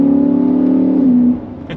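A V8 car accelerating hard in second gear, its loud, steady engine note rising under load for over a second before the throttle lifts and the sound drops away.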